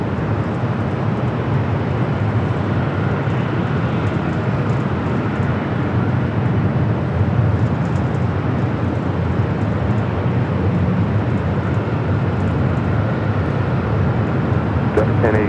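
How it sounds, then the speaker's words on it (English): A Hawaiian Airlines Airbus A330 taxis toward runway 25 right at Los Angeles International Airport for takeoff, making a steady, continuous low engine rumble with broadband roar and no breaks. "we do have Hawaiian A330 starting its taxi, be heading down the 25 right for a takeoff"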